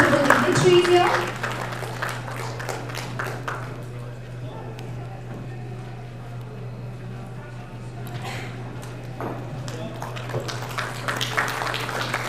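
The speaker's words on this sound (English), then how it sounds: "can we have a warm round of applause for all our notable dignitaries here?" Applause from a summit audience honoring dignitaries at a blockchain event in Gujarat, a dense clatter of many hands that builds, eases through the middle and swells again near the end, filling the room over a steady electrical hum.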